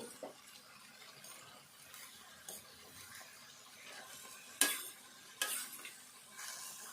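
Oil sizzles softly in a pan while ingredients fry for a cabbage and tomato curry. A spoon clatters and stirs now and then with a few sharper scrapes.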